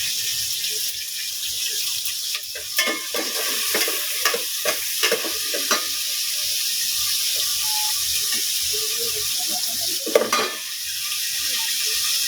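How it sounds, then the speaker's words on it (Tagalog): Onion and tomato sauté in oil in a pan with a steady moderate sizzle, broken by repeated utensil taps and stirring knocks against the pan and a louder clatter near the end. "So, ginigisa ko na muna yung ito."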